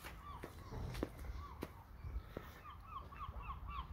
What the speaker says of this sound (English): you can probably hear the seagulls in the background.